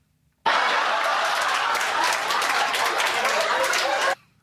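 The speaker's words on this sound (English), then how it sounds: "Have we got any applause?" A burst of canned applause on a BBC radio sports talk show starts abruptly and holds as dense, loud clapping for about four seconds before cutting off cleanly.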